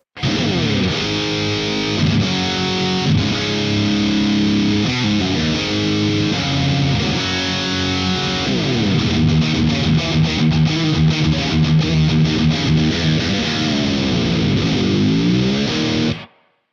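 Heavily distorted electric guitar chugs and riffs continuously for about sixteen seconds, loud and close, with bending notes near the end before stopping.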